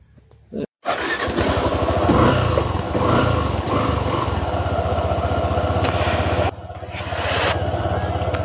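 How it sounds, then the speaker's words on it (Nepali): A motorbike is kicked into life after a brief silence and settles into a loud, steady idle close by, with a short dip and a rise in engine note near the end. "ओके ल, अब बाइक चाहिँ स्टार्ट भयो है।"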